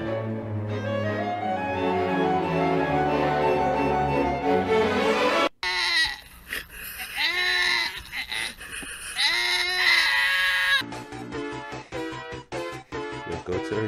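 Goats bleat repeatedly in a series of loud, wavering, nasal cries, some long and drawn out and others short and overlapping, heard close.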